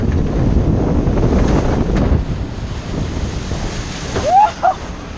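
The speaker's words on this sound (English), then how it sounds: "that was an awesome log flume" A log flume ride at Liseberg rushes through water, with loud buffeting wind and splashing surf close to the microphone, then a couple of brief whooping voices near the end.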